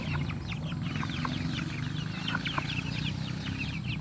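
Native chickens crossbred with the Basilan breed cluck in a farm setting, many overlapping soft clucks and chirps at close-to-middle distance, steady and busy throughout with no talk.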